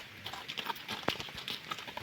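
A horse's hooves clip-clop in a steady rhythm over a hissy outdoor background, with no one speaking; a mare and foal in Yaremche.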